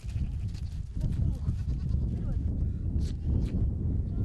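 Sheep bleat while being caught in the Mongolian Gobi, rough calls mixed with scuffling and wind noise, with a couple of brief higher cries near the end, close and continuous.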